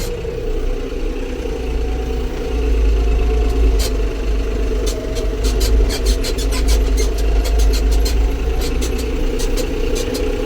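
A John Deere 5405 AC cabin tractor with a laser leveler runs at a steady, loud, low diesel drone, heard up close in a field. Faint rapid ticking and rattles sit over the engine, and nobody speaks.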